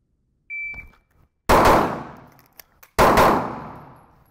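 Two loud, sharp gunshots from a pistol shooting drill, each about 1.5 seconds apart with a long ringing decay, preceded by a faint electronic shot-timer beep and separated by small clicks of handling between them.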